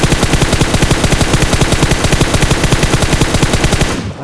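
Sustained automatic weapon fire sprays in the video game PUBG, a loud, rapid, evenly spaced burst of shots lasting about four seconds before cutting off abruptly.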